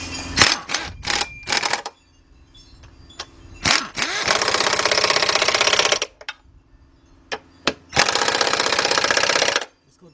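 Bolts being driven on the rack and pinion of a 2001-2005 Cadillac Deville by a power tool, in several loud bursts: short rattling hits early, then two longer sustained whirring runs separated by quieter gaps.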